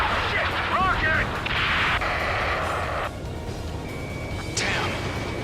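A rocket attack in Ace Combat 7, a loud rumbling explosion and roaring blast noise mixed with jet and radio chatter, with voices speaking over the combat sounds.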